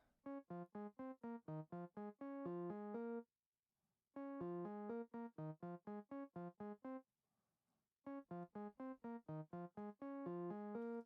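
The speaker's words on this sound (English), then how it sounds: "The arpeggio sounds like this." A keyboard piano plays quick repeating arpeggios with a muffled, dulled top end, in three phrases separated by brief silences.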